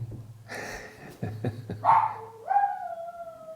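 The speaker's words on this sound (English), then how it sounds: "she will bark or sing along whenever I'm trying to test or tune something" A puppy barks and yips in short bursts, then lets out rising, sustained howls as if singing along to a Hohner 268 bass harmonica; the dog is close and fairly loud.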